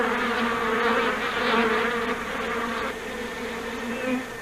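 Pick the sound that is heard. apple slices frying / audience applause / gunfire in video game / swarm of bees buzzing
swarm of bees buzzing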